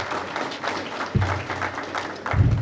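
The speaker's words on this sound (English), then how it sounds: "give yourselves a round of applause" An audience at a county primary candidate forum breaks into steady applause, dense clapping from many hands with low rumbling bumps underneath, loud and continuous.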